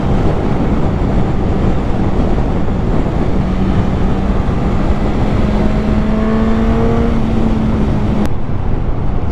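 A 2021 Suzuki GSX-S1000 motorcycle with 152 horsepower accelerates through mid-range revs, its engine note climbing steadily under loud, constant wind roar until a sudden cutoff near the end.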